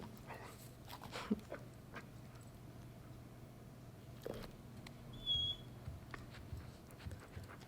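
A dog in Uncharted 4 begs for a treat with soft, faint whimpers and quiet panting, scattered in short bursts over a low indoor background.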